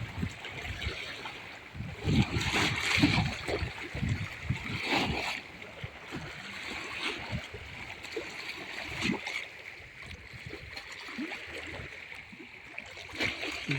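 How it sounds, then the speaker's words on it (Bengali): Big sea waves wash and crash on Patenga beach, a broad rushing and splashing surf that swells in several surges, loud and near, with no voices over it. "দেখতে পাচ্ছেন কিরকম বিশাল বিশাল ঢেউগুলো আসতে পড়ছে।"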